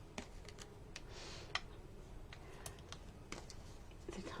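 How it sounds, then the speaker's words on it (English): Quiet computer keyboard typing, scattered irregular key taps at close range over a soft room background, with no clear talking. "The typing."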